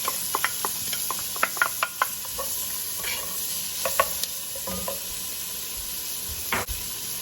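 A small chopped onion sizzles in two tablespoons of Kerrygold butter in a stock pot, a steady close frying hiss broken by light spoon taps and stirs.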